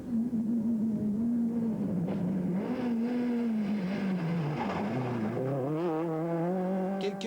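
A rally car, a Citroën Saxo, blasts along a night special stage of the 1999 Circuit des Ardennes, its engine note rising and falling through gear changes and revs as it passes close by.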